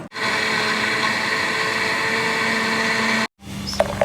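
A blender whirs steadily at close range for about three seconds, mixing milk with dry milk powder, then cuts out briefly before a few clicks and a short restart.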